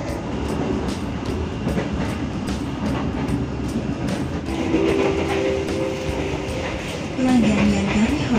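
An executive-class Taksaka passenger train rolls steadily along the rails, a continuous rumble with a faint tonal whine and a brief squeal near the end, heard from on board.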